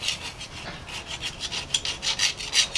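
Old silicone sealant being scraped off a differential cover during a fluid change, a rough rhythmic rasping of repeated strokes, close and steady with no voices.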